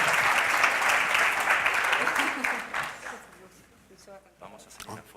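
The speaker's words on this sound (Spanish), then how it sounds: "Un aplauso, por favor." An audience applauds the panel at the close of an angel investment discussion, dense clapping at full strength that fades away after a few seconds as voices start up underneath.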